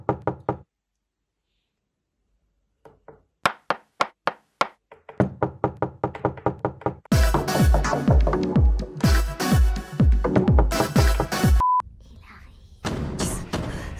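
Sharp knocks rap on a door in short clusters, first alone and then under loud, busy music with thumping beats, close and distinct throughout.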